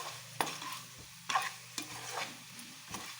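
Chicken fry curry is stirred in an oily pan at close range. A spoon scrapes and knocks against the metal every half second or so over a soft, continuous sizzle.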